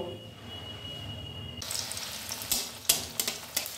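A moong dal kachori goes into hot oil for deep-frying: the clip is quiet at first, then a bubbling sizzle bursts in with sharp crackles and pops.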